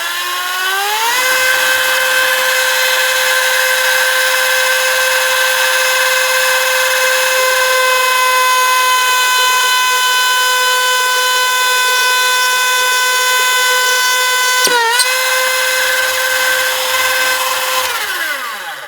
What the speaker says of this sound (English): So I'm going to turn up the speed on this one again. Let's drill another hole.